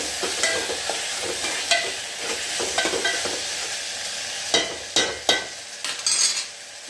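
Green chillies sautéing with salt in a pan, a steady frying hiss broken by repeated scraping stirs and a few sharper clinks of a utensil against the metal, close and moderately loud with no talk.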